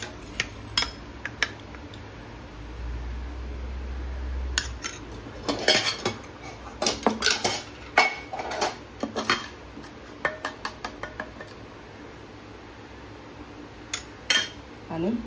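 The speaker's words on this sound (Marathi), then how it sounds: "पहिला आपण चटणी लावून घेऊया." A knife spreads chutney over buttered bread slices for a potato masala toast sandwich, making close, irregular clinks and scraping taps against a plate, busiest in the middle, with a low hum underneath.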